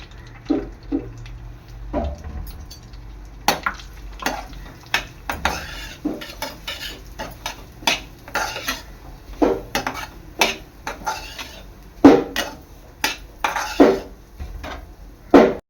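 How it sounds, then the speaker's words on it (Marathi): Semolina is stirred while it roasts in ghee in a pan for pineapple shira, giving a steady series of close metal spoon scrapes and clinks against the pan with a faint sizzle beneath. "घी मध्ये आपला रवा आहे ना, चांगला भाजून घ्यायचा आहे।"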